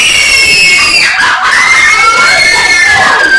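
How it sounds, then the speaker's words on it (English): Women cry out in shrill, wavering screams as a stage effect in a Macbeth performance, loud and sustained, with several voices overlapping and sliding in pitch. "the cry of women, my good lord."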